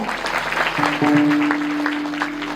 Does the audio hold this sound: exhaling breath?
no